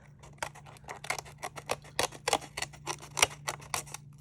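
Scissors snip repeatedly through overhanging collage paper while edges are trimmed off a silhouette collage, a quick run of crisp close cuts with no talking.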